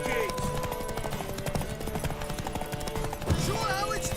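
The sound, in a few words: horse galloping hooves in video game The Witcher 3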